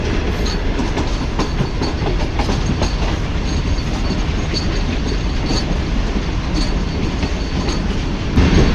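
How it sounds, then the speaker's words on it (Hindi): The Tezgam passenger train rumbles loud and steady as it approaches Mian Channu railway station, wheels clattering rhythmically on the rails in a continuous roar with no voices, rising slightly at the end. "10:50 में हमारी ट्रेन अप्रोच बना रही है मियाँ चुन्नू रेलवे स्टेशन पर"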